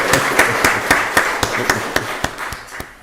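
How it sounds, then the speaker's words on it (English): Applause at a county board of commissioners meeting, a slow run of sharp, evenly spaced claps heard close over a murmuring background, fading toward the end. "Give her another round of applause for Landry"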